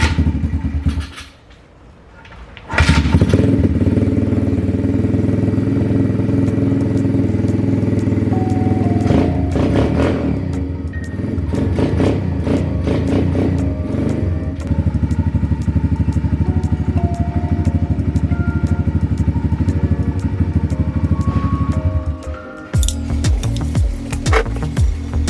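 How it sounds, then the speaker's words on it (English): A pit bike engine starts and warms up. After a short quiet gap it settles into a continuous, loud idle with a steady low drone and crackling exhaust, close by, and the note wavers slightly near the end. "I'm just going to warm the motor up in 2 minutes"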